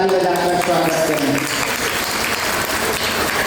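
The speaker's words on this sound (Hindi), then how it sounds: "सभी लोग जोरदार ताली बजाकर स्वागत करें।" Applause welcoming the vows at a Hindu wedding ceremony, a steady loud burst of many hands clapping that fills the whole stretch, with a voice briefly audible at the start.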